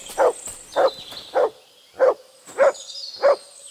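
A dog in Kingdom Come: Deliverance 2 gives six sharp, close barks at fairly even intervals over a faint, steady background of tones. No one speaks.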